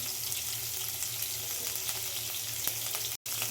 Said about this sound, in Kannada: ಇವಾಗ ನಾನು ಪನ್ನೀರ್ನ ಹಾಕ್ತೀನಿ. ಅರಿಶಿಣ ಹಾಕ್ತೀನಿ.